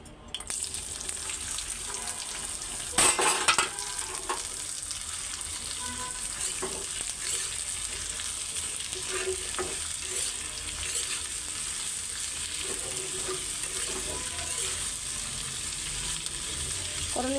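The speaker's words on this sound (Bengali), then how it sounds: "তেল গরম হয়ে গেছে, তো এই করলাটা ভাজি করে নিব।" Bitter gourd frying in hot oil with onion and green chilli, a steady close sizzle running throughout with scraping stir strokes and a sharper burst of spatter early on.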